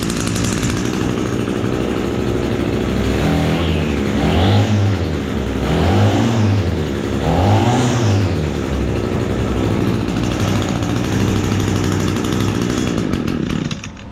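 A Frankenstein Echo string trimmer/edger engine with its wires unhooked runs steadily and loud and close, rising in three distinct throttle revs in the middle before settling back to idle and cutting out at the very end.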